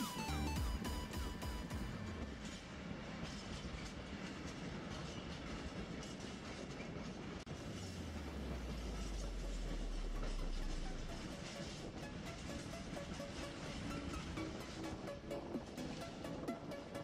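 A freight train rolls through Riesa station in Germany, a steady, fairly faint rumble with rhythmic wheel clatter running throughout, a deep tone sweeping down midway as cars pass, no voices.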